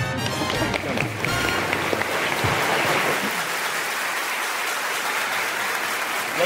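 Loud, full applause from an audience at a gala evening, a dense wash of clapping that holds steady throughout, close and uninterrupted, with some low rumble at the start.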